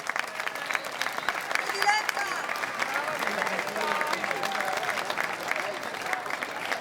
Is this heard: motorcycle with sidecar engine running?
no